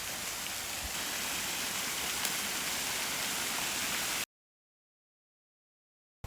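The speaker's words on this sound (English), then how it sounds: "It's a cute little waterfall" Small waterfall at Indian Falls in Alabama, a steady soft hiss of falling water heard alone from some distance for about four seconds before cutting to silence.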